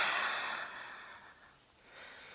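Deep breathing during a guided breathing exercise: a single long, soft airy exhale that fades and then rises again into the start of another breath, close and fairly quiet.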